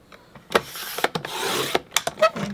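Paper strips being trimmed for a scrapbooking craft project: a few sharp close rasping slides and clicks of a paper trimmer, including one longer scraping cut, with no talk.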